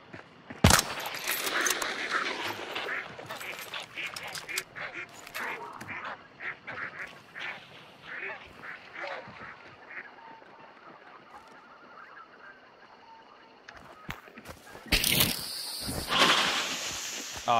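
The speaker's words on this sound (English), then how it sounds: "Get rid of these ducks." Ducks quacking in the video game Hunt: Showdown, a busy flurry of honking quacks alongside rustling game ambience, then a loud burst of noise near the end.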